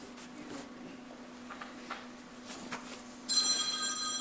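Telephone ringing in a council chamber during a shire council meeting, a steady electronic ring that starts near the end and sounds moderately loud over a quiet room with faint background noise.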